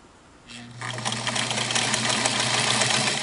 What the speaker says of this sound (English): Let me sew reverse on this belt here with zigzag